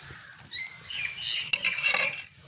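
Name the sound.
lid put on the appam pan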